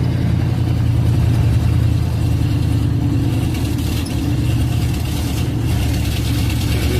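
Pickup truck engine running cold with low fuel while driving, recently fitted with a new thrust washer and nuts; a steady, loud low-pitched hum that continues evenly throughout with no talk.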